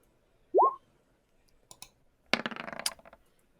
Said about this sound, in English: roll your brains dice